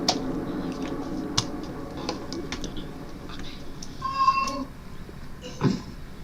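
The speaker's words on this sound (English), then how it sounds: "it's cat. my wife's stupid ass cat" A cat in the horror game Granny lets out a single drawn-out meow at mid-volume, surrounded by faint clicks, taps and a short tonal beep.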